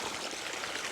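Water pushing out of a farm poly pipe onto a bean field, a steady close rushing and trickling flow with no break.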